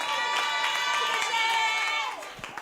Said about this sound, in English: A huge round of applause for you